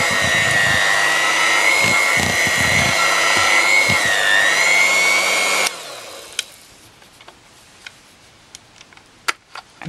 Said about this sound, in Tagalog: dahan-dahan lang yung pag-beat natin